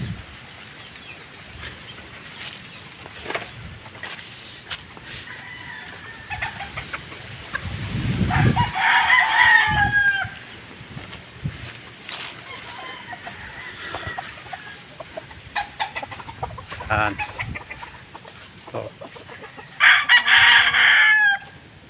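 Fighting roosters kept on a farm crow loudly in several long bursts, with scattered clucks and short calls in between, some birds close and others farther off, and no talk over them.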